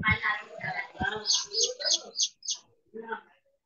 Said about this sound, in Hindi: आपका चिड़िया आवाज कर रहा है